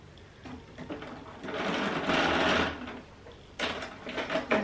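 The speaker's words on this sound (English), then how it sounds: "I'm just going to take it to my sewing machine and sew that together." A Bernina sewing machine runs stitching a cross stitch quilt block, its motor whirring in a steady burst that swells louder in the middle, pauses briefly, then starts again near and clear, with no talking.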